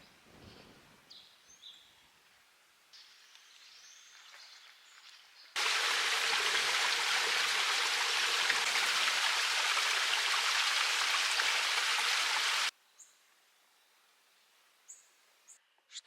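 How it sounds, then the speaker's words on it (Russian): A mountain river in the Andes rushes beneath a bridge, a loud, steady broadband flow that starts abruptly, holds for several seconds, then cuts off to quiet outdoor background. "Вот этот мост, там оказывается водоем, река идет наверху"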